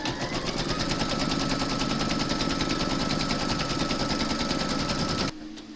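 An embroidery machine stitches a placement outline for a large Mrs Claus appliqué, its fast, even needle chatter continuing loud and close for about five seconds before stopping abruptly.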